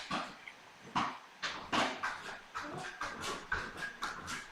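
A dog barks in a rapid series of sharp, fairly close yelps, about a dozen bursts in a loose rhythm with no talk over them.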